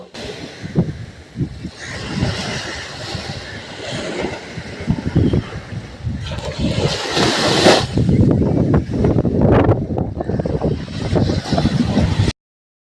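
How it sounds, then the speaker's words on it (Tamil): Sea waves wash onto the shore beside the ancient Pattinathar temple, a continuous broadband rush mixed with wind buffeting the microphone, growing louder and rougher in the second half. "கடல் அலையின் ஓசையை ரசித்துக் கொண்டே"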